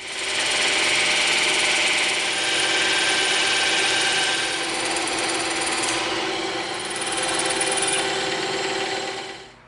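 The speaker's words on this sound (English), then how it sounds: "because we have a bandsaw, we're going to hit it over there" A bandsaw cuts through a piece of EVA foam for a lightsaber handle, a loud continuous buzzing rasp that runs unbroken for nearly ten seconds with slight swells, no voices.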